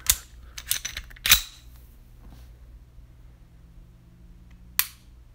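Sharp mechanical clicks from a Sig Sauer P220 .45 ACP pistol's single-action trigger being worked and reset: a quick cluster of crisp snaps, a louder click, then a lone click after a pause, close and dry.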